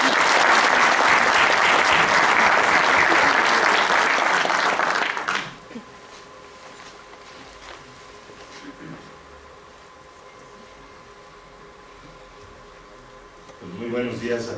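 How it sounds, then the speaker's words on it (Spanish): Hearty audience applause at a national chemical engineering convention, greeting an engineer. The dense clapping lasts about five seconds, then stops abruptly, leaving a quiet room hum before a voice starts speaking near the end. "Démosle un cordial aplauso al ingeniero."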